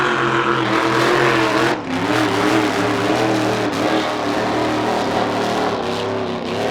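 A racing powerboat engine roars loud and close during practice at the Glenmaggie Cup, a sustained droning growl with brief dips in pitch and volume.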